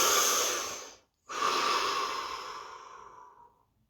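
A deep breath taken in, then let out slowly after a short pause, close and clear with no talking.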